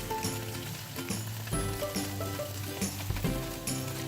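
A ntsouzi za hanadzi mixture cooks in a pan with a steady sizzle and faint crackle, under a low background tone with no speech.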